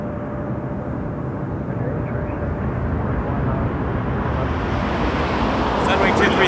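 Jet airliner taking off at Toronto Pearson Airport, a broad steady engine roar that swells gradually over several seconds, with faint radio chatter in the background.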